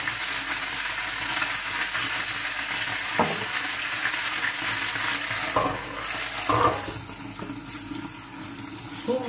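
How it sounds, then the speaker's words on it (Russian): Continuous close sizzle and crackle of foraged slippery jack mushrooms frying in a hot pan, with a few scraping stirs breaking through. "Маслята обжариваются."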